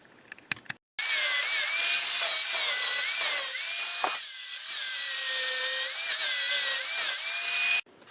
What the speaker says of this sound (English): I take a flap wheel here on the angle grinder and then clean up the grind marks.